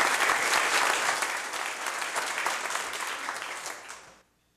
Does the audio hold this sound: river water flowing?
no